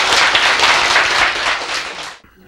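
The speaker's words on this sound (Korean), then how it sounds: "박수!" An audience bursts into loud, dense clapping at a Korean lecture, sustained for about two seconds before cutting off abruptly into quiet.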